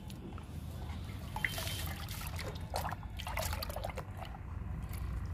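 A homemade tea-based liquid fertilizer made from masala, Assam and Darjeeling tea trickles and splashes onto potted chrysanthemum and rose plants in soft, uneven dribbles, faint and close, with no talking.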